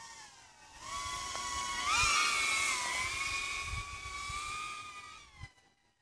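An FPV drone flies and accelerates, its high-pitched motor whine rising in pitch as it speeds up, holding near and steady, then dropping away near the end.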